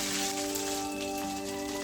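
KFC-style crispy fried chicken sizzles in hot oil, giving a dense, continuous crackle like rain on a surface, close and steady throughout.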